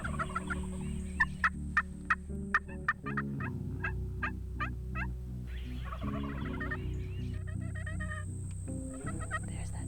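A wild turkey tom on a Texas hunting ranch gobbles in a rapid series of rattling calls, then again several seconds later, heard over a steady low engine-like hum.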